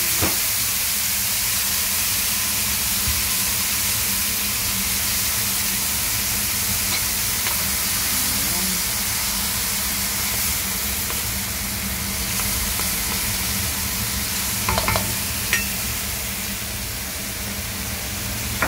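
Tuyo, dried fish, frying in a pan while cooking pork adobo with chicken wings, giving a steady close sizzle and hiss throughout with a few faint utensil clinks and no talking.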